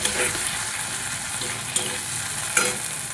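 Spice masala with garlic paste sizzles in a pan for a rohu fish curry, a continuous bright frying hiss with a couple of small crackles as the mixture is stirred.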